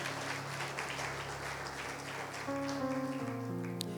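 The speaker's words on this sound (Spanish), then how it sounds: "Denle un aplauso a Dios en esta mañana." A church congregation at a morning service applauds in a steady, fairly quiet wash of clapping while sustained organ or keyboard chords drone underneath and shift in pitch partway through.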